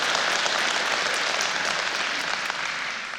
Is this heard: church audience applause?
yes